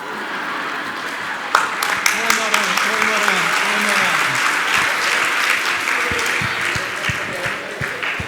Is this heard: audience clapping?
yes